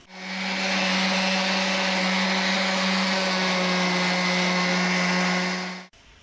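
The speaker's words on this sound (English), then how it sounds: "my orbital sander proved to be the best" An orbital sander whirs steadily at close range for several seconds, sanding the metal body of a bus, a constant droning hum that cuts off abruptly at the end.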